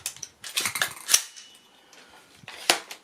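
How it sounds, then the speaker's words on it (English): Mechanical clicks and clunks as the bolt is charged on a break-barrel air rifle fitted with a new trigger, a cluster of sharp metallic snaps followed later by one firm click, close and alone. "Yes, charge bolt."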